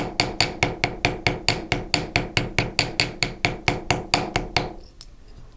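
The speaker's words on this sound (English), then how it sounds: "Another tool that you can use for edging is the bald end of a chasing hammer" The bald end of a chasing hammer taps steadily around the edges of a stamped metal charm, about twenty sharp, evenly spaced metallic strikes at roughly four per second, close and clear, then stops.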